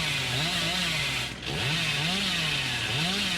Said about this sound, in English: This is where we got David before with the chainsaw